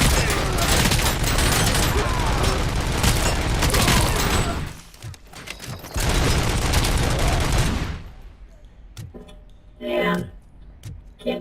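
Dense gunfire rattles through a Robocop Rogue City firefight, a loud unbroken barrage of shots and booms that pauses briefly, resumes, then gives way to sparse sounds and a voice talking.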